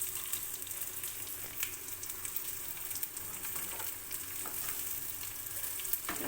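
Chopped green chilies and two dried red chilies fry in hot oil, giving a steady soft sizzle with light crackles and an occasional stirring scrape.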